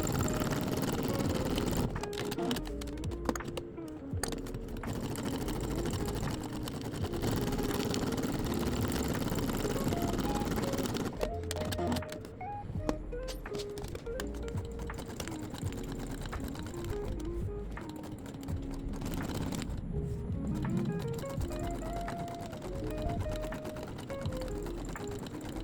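Sewing machine stitching raw-edge appliqué outlines on pumpkin coasters with black thread, a steady close whirring motor running throughout with a few brief pauses and speed changes.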